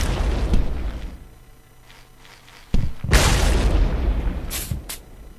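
Gunfire from an automatic weapon in the video game Happy Wheels: a cluster of sharp blasts and booms, a quieter lull, then a loud heavy burst with trailing crackle and a couple more hard shots.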